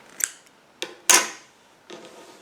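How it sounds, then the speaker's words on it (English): Scissors snipping yarn during crochet make a few crisp, close metallic clicks and snips, one sharper and louder than the rest, in an otherwise quiet room. "Then I'm going to go ahead and cut the previous colored yarn."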